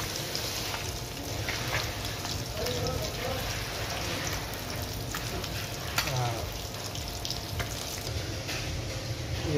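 Meat fries in a pan over a village cooking fire, a steady close sizzle and crackle like light rain, with faint voices in the background.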